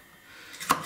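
A single sharp knife chop through fresh bell pepper on a cutting board, a crisp close thunk after a quiet moment.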